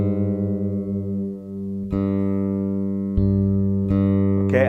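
Bass guitar being tuned: a sustained electronic reference tone followed by a plucked in-tune string matching it, with several further plucked notes ringing steadily up close, no speech.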